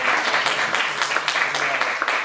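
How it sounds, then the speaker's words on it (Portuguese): An audience at the Academia de Letras da Bahia applauds university literature students with dense, steady clapping that stays fairly even throughout. "Uma salva de palmas para os estudantes."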